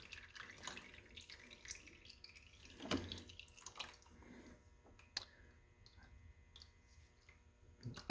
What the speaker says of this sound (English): now that I've got all this beautiful oil dripping all over the place